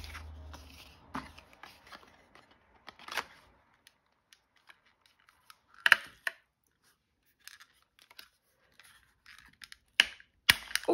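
Scissors cut card stock into specimen cards, giving sparse, close snips and papery rustles scattered among quiet gaps.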